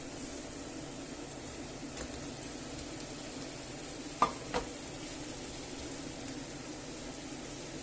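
Pork fillets sizzle in a pan with a bay leaf, giving a steady, quiet hiss throughout, broken by a few sharp clicks and scrapes as they are stirred.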